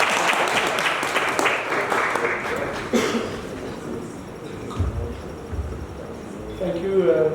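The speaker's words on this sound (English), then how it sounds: "another round of applause" Applause at a public enterprise CEOs' cocktail dinner for Henry van Schalkwijk, CEO of Western Aviation and Fly Namibia. Dense clapping fades through the clip, with talk and room noise rising beneath it.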